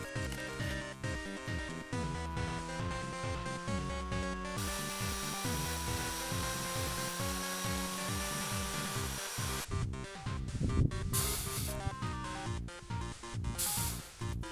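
A steady whirring power drill spins a tube against sandpaper with a gritty rubbing sound, sanding off paint, the motor pitch holding even, broken by a few scraping bursts near the end.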